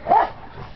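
A single sharp bark from a dog playing in the front yard at a doggy daycare, loud and close, followed by quieter background noise.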